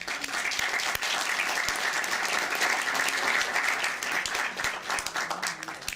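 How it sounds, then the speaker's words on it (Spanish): A hall audience at a university talk applauding, dense, steady clapping from many hands that fills the room and tapers slightly at the end. "para quien pido un fuerte aplauso"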